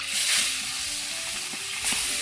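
Fish frying in a pan with a steady, close sizzle and a few soft stirring clicks, no talking.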